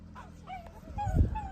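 Rescue dogs, a group of young females and males about a year old, whimper and yip in soft, high, wavering cries close by, growing a little louder toward the end, in Chester, California, near Lake Almanor.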